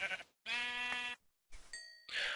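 A sheep in the video game Minecraft bleats while being struck with a wooden sword: loud, close bleats separated by brief silences, with a sharp ringing hit sound in between.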